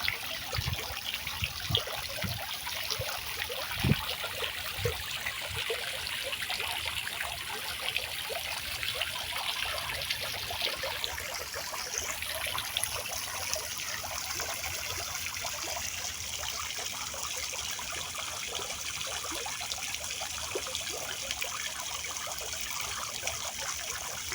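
Water trickles continuously from a children's drinking fountain, a steady close babble and dribble lasting the whole stretch without talk.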